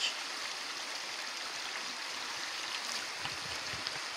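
A stream flows right beside a campsite in the Drôme, its steady broadband rush continuous and fairly close, with no voices over it.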